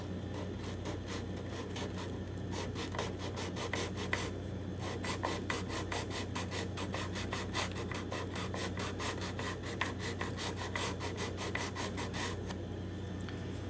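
A wooden guitar heel being worked with a hand tool to widen a binding channel slot, giving a steady rasping, rubbing scrape with rapid regular strokes throughout, close and moderately loud, with no talking.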